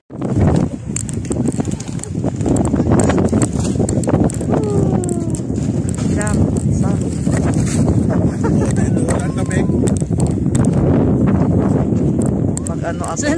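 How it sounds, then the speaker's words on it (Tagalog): Strong, cold wind on a desert farm roars and buffets the microphone without letup, a loud, steady gusting rush with faint sounds in the background. "Grabe, ang lakas ng hangin"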